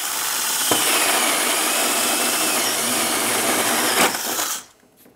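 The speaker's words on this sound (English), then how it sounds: "Just put it on your mark and drill right through the wall." A power drill with a paddle bit whines steadily at full speed as it bores through a wall for several seconds, then winds down and stops.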